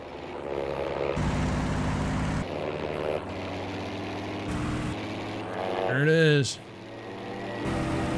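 A propeller plane's engine drones steadily in Battlefield V, a low, even hum that shifts pitch between segments. Near the end it rises into a brief whine before settling again.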